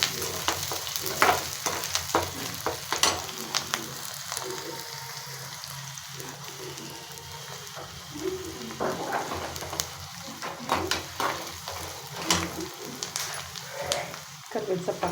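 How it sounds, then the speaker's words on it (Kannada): Onion and green chilli frying in hot oil with mustard seeds in a pan, a steady crackling sizzle broken by scraping stirs, with a voice talking over it now and then. "ಈರುಳ್ಳಿ ಹಾಕೋಣ. ಮೆಣಸಿನ್ಕಾಯಿ ಹಾಕ್ತಾಯಿದ್ದೀನಿ. ಚೆನ್ನಾಗಿ ಫ್ರೈ ಆಗಬೇಕಿದ್ದು."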